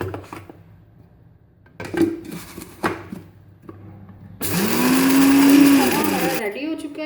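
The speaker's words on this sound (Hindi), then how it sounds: "इनको हम इकट्ठा ग्राइंड कर लेंगे। अच्छी तरह से चॉप पीसना है।" An electric grinder whirs loudly for about two seconds, pulverising whole spices including nutmeg for beef nihari, after a few clunks of the jar being set up and spices being added.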